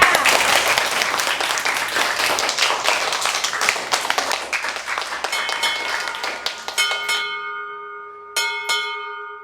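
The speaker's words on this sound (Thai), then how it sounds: "ปรบมือให้ด้วยค่ะ" Schoolchildren in a classroom clap for a newly chosen class leader. The lively, close clapping starts strong and fades after about seven seconds, followed by a few clear ringing bell-like tones.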